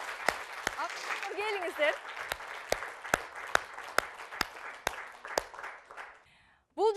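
An audience at a forum theatre performance applauds to welcome the actors onstage, with a steady, rhythmic run of claps beneath someone speaking into a microphone.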